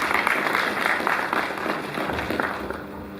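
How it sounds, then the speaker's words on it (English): Audience applause at a college congregation ceremony, dense sustained clapping from a large crowd, loud and steady before easing slightly toward the end. "Please a round of applause."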